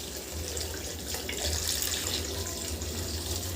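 Water pours steadily into a pan of besan and potato curry, a continuous close splashing and trickling that swells slightly midway, with no talking.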